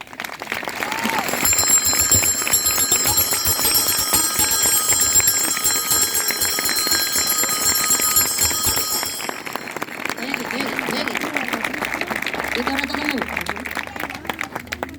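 Audience applause at a Asturian sidros y comedies carnival performance in Valdesoto, a dense, sustained clapping filling most of the stretch alongside a bright ringing tone, then thinning toward the end.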